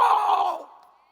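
A church congregation bursts into loud crowd noise, applause mixed with shouts, that fades away over about a second to near silence.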